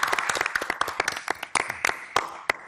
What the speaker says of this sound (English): let's give a round of applause to my successor, Janine Nicholson.